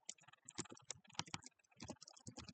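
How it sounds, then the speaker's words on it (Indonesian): Quick, irregular clatter of computer keyboard keys being typed, close and crisp in rapid bursts with brief pauses, alone without voices. "Pada IPv4 address atau DNS name ini kita"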